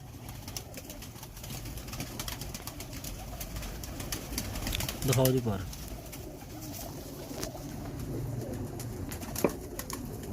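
Breeder pigeons of a Lakha bloodline in a Faisalabad loft give a brief, soft coo midway, set against low background noise while someone talks nearby.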